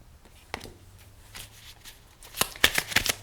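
A tarot card deck is shuffled in quick riffling bursts near the end, close and crisp after scattered handling sounds.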